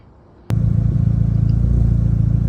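An Audi B8 A4 engine cranks and starts after a power steering pump replacement, then settles straight into a loud, steady, even idle rumble close by; no talking.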